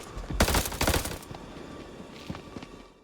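Gunfire in the horror video game House of Ashes: a loud, rapid burst of shots early on gives way to scattered quieter impacts and faint movement. No speech.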